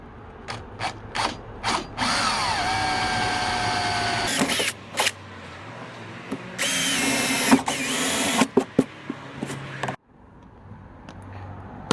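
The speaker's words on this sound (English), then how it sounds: "drill through that with an 11mm drill bit" An 11mm bit drills through the metal of a 1978 caravan for M8 Riv Nuts: loud, close whining bursts of drilling with pauses and clicks between, the bit biting and squealing through the sheet.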